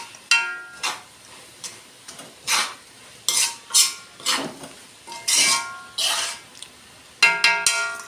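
Crushed dried chili and black pepper sautéed in a pan for a coconut chicken dish, heard as a series of separate scraping, stirring strokes with light sizzle, moderately close and fairly quiet, with no talking.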